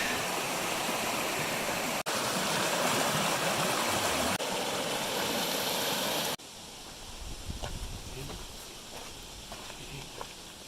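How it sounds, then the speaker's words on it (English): A creek on the Pacific Crest Trail in California flows with a loud, continuous rushing wash. After a few seconds it drops to a softer babble with scattered splashes and footsteps nearby. "Well, here we are at the creek again"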